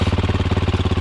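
YZ450F motorcycle engine fitted to a homemade tractor, running close and loud with a rapid, steady rhythmic chugging pulse throughout.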